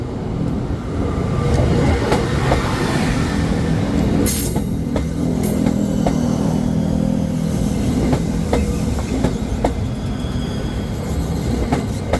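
An SRT Red Line electric train crossing railway switch P102A at Taling Chan, Bangkok: a loud, steady close-up rumble of wheels with scattered clicks and clacks over the points, plus a brief high squeal.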